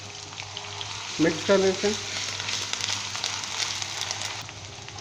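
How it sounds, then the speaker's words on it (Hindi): Ginger garlic paste hitting hot oil in a pan sets off a steady, close sizzle and frying hiss that runs throughout, while a voice speaks briefly over it. "ऑयल गर्म हो चुका है, अदरक लहसुन का जो पेस्ट है ये डालेंगे।"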